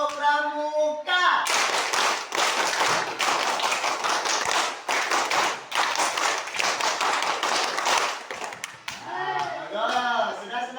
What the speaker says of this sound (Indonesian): Tepuk satu. Tepuk dua. Tepuk tiga. Ya, tepuk pramuka.